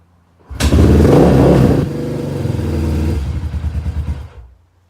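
A cold Suzuki DR350 motorcycle engine catches and roars loudly up close, then settles into a steady rumbling idle with a pulsing throb before it cuts out.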